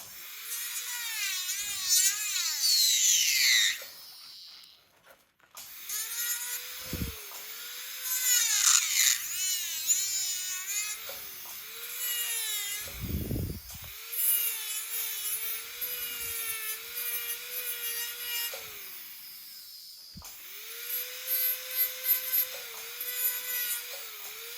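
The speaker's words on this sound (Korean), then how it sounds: "선 바깥으로 외부로 튀어나와 있는 하얀 레진들을 제가 깎는 걸 보실 수 있어요" A dental drill trims excess white resin on temporary teeth in steady high-pitched whining runs. Its pitch shifts as the drill presses into and lifts off the material, and short grinding scrapes and brief pauses interrupt it.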